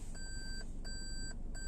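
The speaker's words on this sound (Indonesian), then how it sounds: "Nah, ini kebiasaan nih kalau misalnya nggak pakai safety belt ya, selalu bunyi nih." A 2016 Toyota Camry 2.5V seatbelt warning chimes in repeated clear electronic beeps, three evenly spaced tones over a low engine and cabin rumble.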